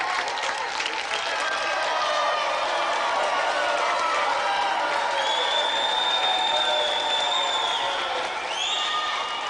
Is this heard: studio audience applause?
yes